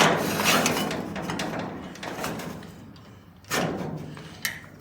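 Drilled metal tubing hung with a clamp over the bed of a Ford F-100 pickup during floor repair, giving a few close knocks and clanks over a steady background noise, with a sharper thud near the end.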